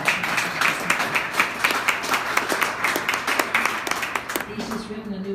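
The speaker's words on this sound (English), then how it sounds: "let's give Jim some applause." Audience applause for a speaker at a conservation-related event, a dense, continuous round of clapping from a sizable crowd lasting about four and a half seconds before fading, with a voice starting up at the end.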